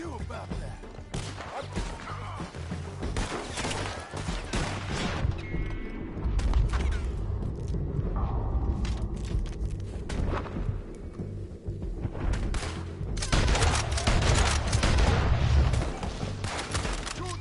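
Heavy gunfire in the Western game Red Dead Redemption 2, with dense volleys of loud shots and booming cracks rolling over one another in bursts across the whole stretch, near and forceful, with a brief voice now and then.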